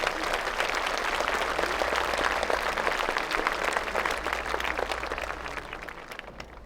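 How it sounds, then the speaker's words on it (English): A graduation audience applauds assistant principals with sustained, dense clapping from a large crowd, steady and full for several seconds before easing slightly at the end, over a low background hum. "Can we give these people a round of applause?"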